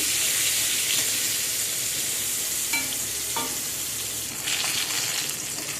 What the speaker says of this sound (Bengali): আজকে আমি এখন বেগুন ভাজা করে নিচ্ছি।